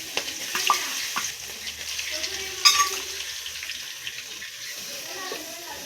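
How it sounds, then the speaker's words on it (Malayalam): Ginger garlic paste sizzles in a pan with fennel seeds and fries with a soft, crackling hiss. Faint stirring scrapes and clinks sit over it. "ഇതിലേക്ക് നമുക്ക് ഇഞ്ചി വെളുത്തുള്ളി പേസ്റ്റ് ഇട്ട് കൊടുക്കാം."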